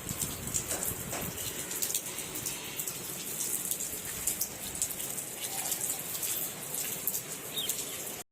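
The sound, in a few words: rain falling outside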